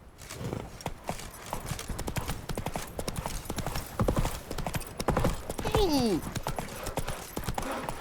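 Hooves of Roach the horse clip-clop steadily in The Witcher 3, a brisk trotting rhythm throughout, with a short whinny near the end and game ambience underneath.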